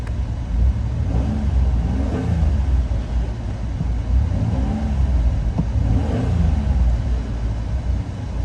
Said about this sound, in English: We're gonna let this thing run for a little bit. Let's give it a little rev.